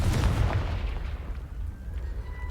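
A Confringo blasting spell detonates in Hogwarts Legacy with a loud, close, booming explosion that hits at once and rumbles away over about two seconds.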